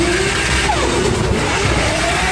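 A 2JZ-powered Nissan S14 drift car at full throttle during a Drift Masters Germany battle, a loud sustained engine roar with some tire noise, heard continuously without pause.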